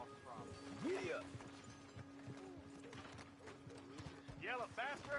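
Horse hooves clip-clopping in a video game, a loose rhythmic clatter of steps mixed with game noises and someone shouting over them.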